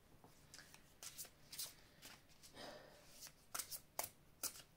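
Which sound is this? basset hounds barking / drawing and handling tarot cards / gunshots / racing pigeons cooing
drawing and handling tarot cards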